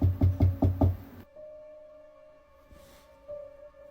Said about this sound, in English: she heard a knocking on a window that's on the other side of the house